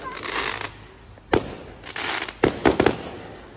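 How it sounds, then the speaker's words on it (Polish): Fireworks explode outdoors during an English celebration with a bonfire, several sharp bangs arriving at irregular intervals, one isolated burst followed by a quick cluster of three near the end, over a low rumbling background. "więc teraz punkt programu fajerwerki i ognisko."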